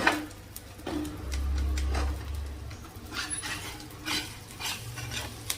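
A spatula scrapes and stirs an omelette on a hot griddle in a hotel-style kitchen, with rhythmic clacking strokes over a low sizzle and background hum, no talk.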